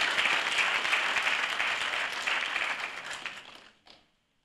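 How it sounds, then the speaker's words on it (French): An audience at a school-year opening meeting with a government minister claps loudly and steadily for about three and a half seconds, then fades out and stops near the end. "je vous demande de les acclamer très très fort"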